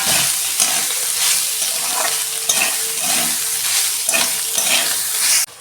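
Soybean chunks fry in hot oil in a kadai, a loud, dense sizzle with rhythmic stirring scrapes that stops abruptly at the end.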